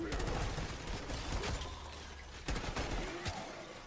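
Black Ops 6 gunfire aimed at the Mangler comes as faint, scattered bursts of shots at a moderate distance, with some talking mixed in underneath.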